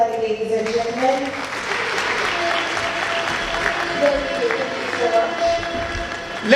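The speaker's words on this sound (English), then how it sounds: "Let's give him another warm round of applause" An audience at a speaking event breaks into applause, steady clapping rising through the stretch while voices call out and speak over it.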